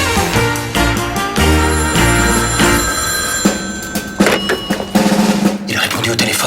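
A telephone rings in a French spy comedy office scene, its bell cutting through busy background music and bustle, with loud bursts continuing for several seconds.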